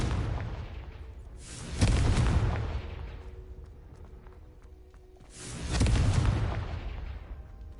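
Two heavy blasting-spell explosions in Hogwarts Legacy, each a loud booming burst with a rumbling tail, spaced about four seconds apart over a low background rumble.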